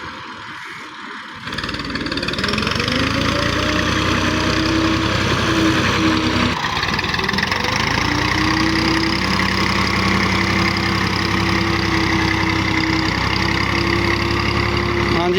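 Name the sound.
Massey Ferguson 240 tractor engine levelling land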